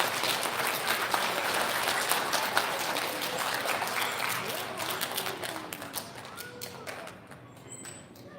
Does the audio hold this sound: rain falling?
no